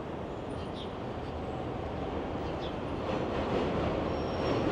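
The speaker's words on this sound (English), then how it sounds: "Right here is the subway line" A New York City subway train rumbles past in Long Island City, Queens, a steady broad roar that swells slightly louder toward the end, with no talk over it.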